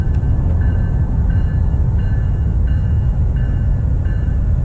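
A freight train rumbles past in a steady, loud, low roar, with faint regular clicks from the wheels over rail joints and no voices.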